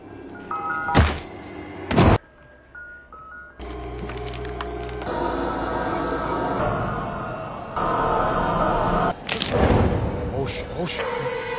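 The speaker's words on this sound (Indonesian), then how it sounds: "sebuah truk es krim mendekati restoran" An ice cream truck drives up toward a restaurant in a film scene, its chime-like tones mixed with loud, dense movie soundtrack, sharp impact bursts and voices, the vehicle sound partly buried in the busy mix.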